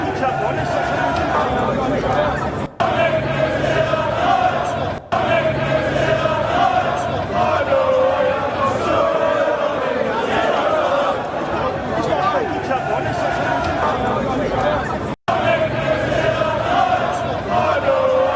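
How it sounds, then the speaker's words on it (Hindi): A vast crowd of protesters fills London streets, a dense, continuous roar of massed voices and chatter at a steady level throughout, with a few brief drop-outs. "लंदन की सड़कों पर लाखों लोग आ गए"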